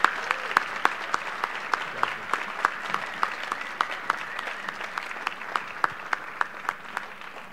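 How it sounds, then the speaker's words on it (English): Audience at a school alumni awards assembly applauds warmly, a steady wash of many hands clapping with sharper individual claps popping out, sustained for several seconds in a large hall. "can we just have one more round of applause for this remarkable group of people?"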